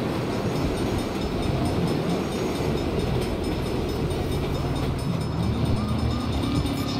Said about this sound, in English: Bad time for a train.